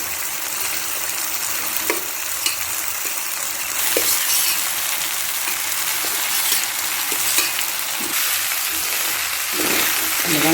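Chopped onions and tomatoes frying in oil in a pan for dal rice; a continuous close hiss and crackle of sizzling, with occasional stirring knocks, with no voices.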